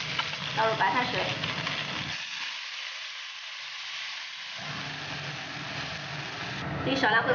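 Boiled water is poured onto pan-fried wild fish, setting off a loud hissing sizzle that dips and then returns stronger, with some talk in the background.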